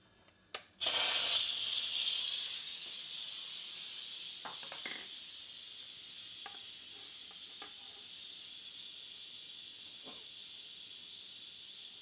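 A pressure cooker on quick release lets out a sudden loud, steady hiss of steam after a brief click, then hisses on without a break, faint thumps and clicks now and then.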